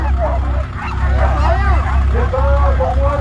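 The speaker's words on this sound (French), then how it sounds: "de faire patienter ses wheels, ses chiens, ses premiers chiens après le traîneau" Sled dogs bark and yelp excitedly at the start line of stage 8 of a mountain sled-dog race at Bessans, 1750 metres up, a dense, continuous chorus over a low rumble, with voices mixed in.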